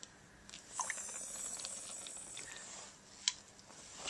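Liquid from a laboratory beaker is emptied into another beaker holding water, a soft steady gushing trickle with a couple of faint clinks of glass, quiet and close.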